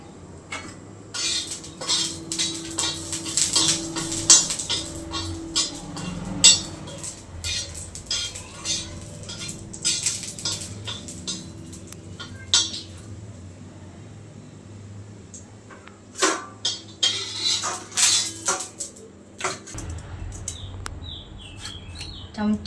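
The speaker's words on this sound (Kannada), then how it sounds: "ಟೊಮಟೆನ ಈ ಥರ ಹಚ್ಕೊಬೇಕು ಸಣ್ಣಕ್ಕೆ" Tomatoes chopped into small pieces with a knife, heard as irregular clusters of sharp taps against a board, moderately close, with faint bird chirps in the background and no talking.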